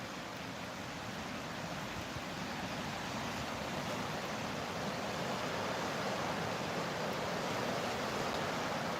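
Rushing floodwater during the Traunstein flood, with trees standing in the water, a continuous broadband roar of fast-moving water, steady and fairly distant, with no voices over it.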